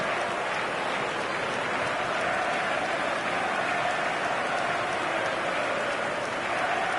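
A dense, continuous roar of a large crowd in the eFootball 2025 video game, loud and unbroken throughout, like a packed stadium heard from within.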